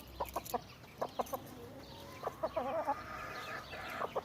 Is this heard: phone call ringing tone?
no